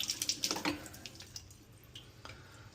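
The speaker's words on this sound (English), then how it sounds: "So another thing you can do is try and run some water through there, try and get some of that crap out of there." Hot water running and splashing from a Moen kitchen faucet, with brief dripping spatters at first that settle into a faint, thin trickle.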